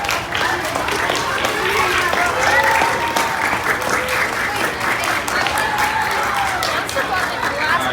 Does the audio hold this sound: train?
no